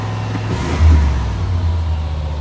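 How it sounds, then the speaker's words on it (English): A car engine idles steadily, then briefly revs up with a short throttle blip before settling back to a low rumble. "Let me go in here and tap the throttle so they can idle it down."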